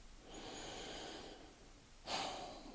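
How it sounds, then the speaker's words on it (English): Breathing up close and quiet: a long slow airy inhale, then a brief pause and a sharper, louder exhale through the nose, with no talk. "You just sit and you breathe."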